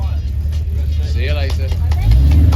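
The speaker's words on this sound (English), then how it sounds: "it's the 1988 Aston Martin V8 Vantage Volante" A 1988 Aston Martin V8 Vantage Volante, the Prince of Wales car, rumbles past at a concours parade with a steady low engine note that swells near the end, while people talk over it close by.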